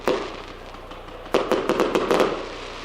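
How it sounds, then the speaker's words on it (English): Fireworks at a rugby league stadium burst in a sharp crack, then after a pause a rapid run of five or six loud, close bangs with crackling tails, heard without talk. "I think Featherstone had a value for money firework here."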